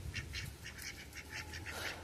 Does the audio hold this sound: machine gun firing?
no